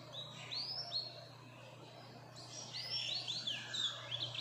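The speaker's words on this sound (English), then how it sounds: "His song is really soothing." A black-throated finch crossed with a female canary sings in short bursts of bright, high twittering phrases. A brief pause separates the bursts, and a low steady hum runs underneath.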